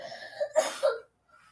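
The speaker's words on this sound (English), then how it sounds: "Are you coughing or sneezing with that in your mouth?" A pet with something in its mouth gives a few short, close coughs or snorts, sharp bursts in quick succession that stop abruptly into near silence.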